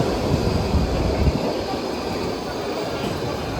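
A new Baltimore subway train runs with a loud, steady rumble and rolling wheel noise, heavier at the start and then settling into an even roar.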